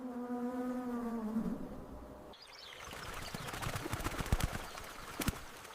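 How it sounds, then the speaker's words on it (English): A bee hummingbird's rapidly beating wings make a steady tonal buzz for a couple of seconds, then give way to scattered rustling and faint clicks. "They can beat their tiny wings an incredible 80 times a second"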